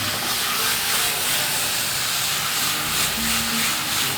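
Chicken malai tikka pieces frying in a pan over high heat, giving a steady, loud broadband sizzle and hiss that runs continuously without pause, no voices.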